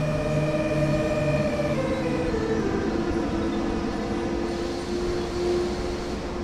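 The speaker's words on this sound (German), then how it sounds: "Schön langsam abbremsen." A DB BR 182 Taurus electric locomotive slows under braking in the Train Sim World game. Its steady loud rolling drone carries whining tones that step downward as it decelerates, with no talking.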